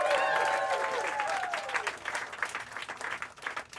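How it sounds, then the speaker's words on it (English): An audience at a stand-up comedy showcase bursts into applause and whoops for a comedian, loud at first and then thinning out into scattered claps over a few seconds. "Start clapping right now for Jake Snell"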